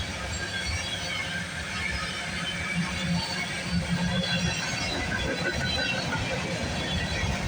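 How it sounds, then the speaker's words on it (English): CPKC freight train approaching at Milton GO during an early-morning train meet, a dense, steady rumble of wheels and cars that holds loud and close for the whole stretch. "That is another train coming."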